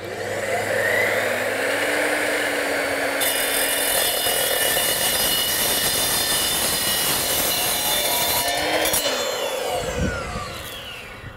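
A saw cuts quarter-inch steel square tubing on a pergola build, producing a loud, harsh metallic screech with squealing tones that builds, holds for several seconds, and then tapers off as the cut finishes.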